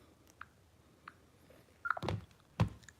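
Short electronic phone notification beeps, a few faint blips followed by two louder bursts close together, alone with no talking.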